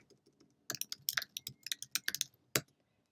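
Quick bursts of computer keyboard typing, close and fairly quiet, with uneven clusters of key clicks and short pauses, no voices.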